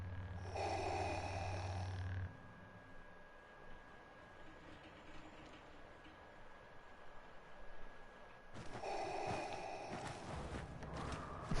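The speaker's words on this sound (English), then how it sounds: "I like how his breathing is just louder than everything else." Darth Vader's loud mechanical respirator breathing in Star Wars Battlefront 2: a heavy, hissing breath at the start and another near the end, both close and prominent, with quieter battle noise in between.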